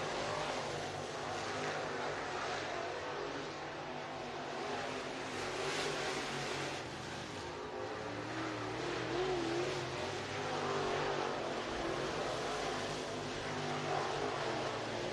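Race cars running hot laps at Southern Raceway, a continuous engine roar rising and falling as cars pass, heard from a distance.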